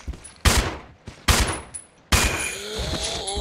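Gunfire from the video game Resident Evil 0: three loud, sharp bursts of shots in quick succession, the last one trailing into a longer rumbling tail with game sounds.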